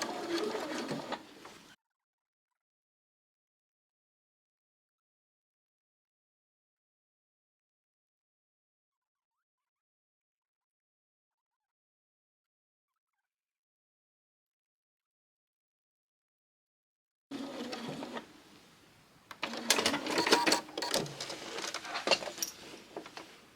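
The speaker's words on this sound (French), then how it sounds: "Et on coud donc à 1 ou 2 mm du bord." A sewing machine stitches a new zipper into a pair of jeans, giving short bursts of rapid mechanical whirring and needle clatter, with a long silent gap between the first burst and a longer, uneven final run.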